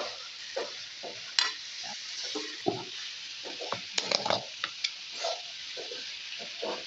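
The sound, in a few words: stirring chicken and pork frying in a pan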